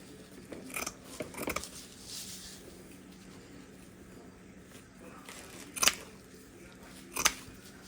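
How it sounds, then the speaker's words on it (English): Scissors snip quietly at close range, a few crisp cuts in small clusters separated by pauses against a faint room hush. "these scissors work so great"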